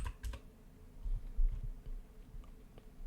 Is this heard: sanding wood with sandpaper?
no